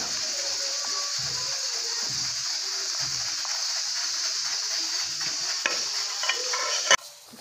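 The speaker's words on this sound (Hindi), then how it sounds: "ये वाला मुझे चाहिए, तो मैंने सोचा ये उसमें से सवैयाँ निकाल लें" Milk vermicelli being scooped out of a cooking pot in a Pakistani village kitchen, with repeated soft scraping and stirring scuffs against the metal and a sharper clink near the end.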